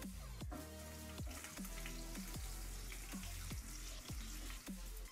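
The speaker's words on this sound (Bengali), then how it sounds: "তেলের উপর দিয়ে দিলাম 1 চামচ আদা রসুন কুচি, তারপর দিয়ে দিচ্ছি স্প্রিং অনিয়নের সাদা অংশটা" Chopped ginger, garlic and white spring onion parts frying in hot oil for restaurant-style Indo-Chinese chicken Manchurian, giving a steady loud sizzle with repeated scraping knocks of a spatula stirring the pan.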